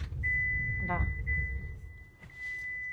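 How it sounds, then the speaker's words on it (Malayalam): A Tata Nexon EV's seat belt warning chime holds a thin, steady high tone for most of the moment, fairly quiet and close inside the cabin, with a low rumble and a brief voice-like murmur underneath. "സീറ്റ് ബെൽറ്റ് ഇട്ടില്ല എന്നുണ്ടെങ്കിൽ ഇങ്ങനെ കേട്ടോണ്ടിരിക്കണം."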